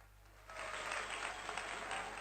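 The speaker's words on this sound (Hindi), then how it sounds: "अरे एक बार ताली तो बजा दो सर" Soft audience applause at a devotional gathering, rising after a quiet start and continuing as a steady patter, faint and somewhat distant over a low electrical hum.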